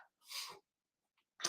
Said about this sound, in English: Sorry, sneeze.